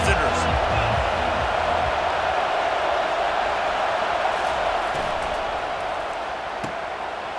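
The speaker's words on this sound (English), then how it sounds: "This crowd bringing an ear-splitting welcome to their visitors." Stadium crowd roar at a college football game in EA Sports College Football 25, a dense, loud, steady wall of cheering that fades slightly toward the end, with a few thuds and bangs early on.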